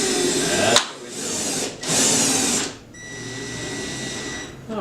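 A power drill drives screws into a wall while drapery hardware is installed, giving loud, close whirring bursts that start and stop, followed by a steadier lower-pitched run with a faint tonal whine.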